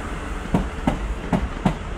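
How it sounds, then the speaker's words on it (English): A long Class 450 electric train pulls away from Guildford station, four evenly spaced wheel clacks ringing out over a steady rail rumble, close by and moderately loud. "This is departing Guildford now."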